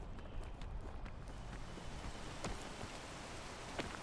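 Rain falls in the video game PEAK, a soft, steady hiss of drops with a few sharper taps and light steps, faint and continuous throughout.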